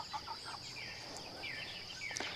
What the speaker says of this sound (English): Silky rooster.